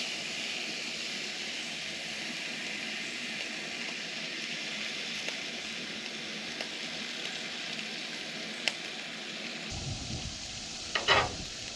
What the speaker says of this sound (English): But first, we're gonna cook some bacon.